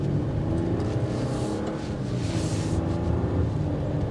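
A 2024 Audi Q8 Prestige with 335 horsepower accelerates, its engine and road noise a steady, muffled rumble heard from inside the cabin, with no talking.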